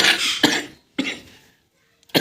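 A woman with a cold coughs in several harsh, chesty bursts with short gaps between them, close and fairly loud.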